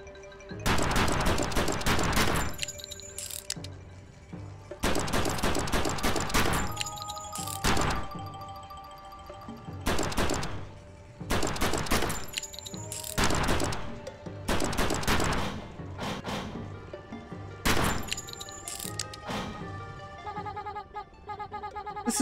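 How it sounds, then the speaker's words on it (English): Rapid bursts of hand cannon gunfire at a shooting range in the Trigger Witch video game, loud clustered volleys with brief pauses between them, layered over a steady game music backdrop. "Aim your shiny new hand cannon using R and shoot using R trigger."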